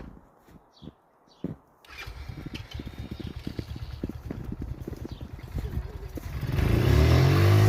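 A Yuki 250 ATV idles quietly in snow among scattered footsteps, then starts up with a rapid putter of engine pulses that builds toward a louder rev near the end.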